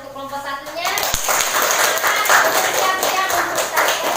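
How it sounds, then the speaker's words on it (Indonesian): Schoolchildren in a classroom clapping for a group, irregular scattered claps mixed with children's voices and chatter, close and fairly loud, continuing throughout. "Silakan tepuk tangan untuk kelompok 1-nya."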